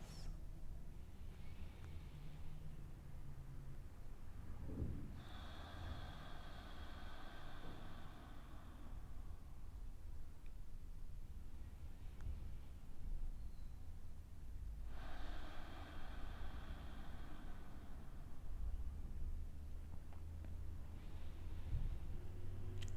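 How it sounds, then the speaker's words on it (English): Two slow, deep breaths during a quiet somatic yoga session, each a long soft inhale-exhale spaced about ten seconds apart, faint and close against low background hiss. "Allow yourself to stay spacious, taking 3 more deep breaths"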